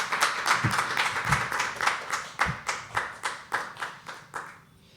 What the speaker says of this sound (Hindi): तालियां बजाइए and we'll call Priyanshu on stage.